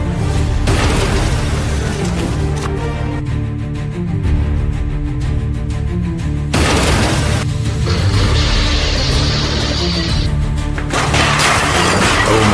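A car that hydroplaned on a rain-slick road crashes after going off a cliff, heard as loud continuous crashing and smashing with sharp impacts and bursts of debris noise throughout, no voices.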